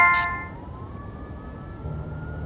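An ambulance siren wails in a steady drawn-out tone over low rumbling engine noise at a city traffic intersection, briefly preceded by a short electronic chirp.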